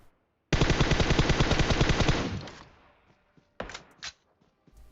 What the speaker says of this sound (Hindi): मेरा टीममेट वहीं से गोलियां पेल रहा है